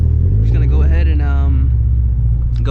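Scion FR-S with a pops and bangs tune, its engine rumbling deep and steady from inside the cabin on an empty street, with a few rising revs swelling over the low drone.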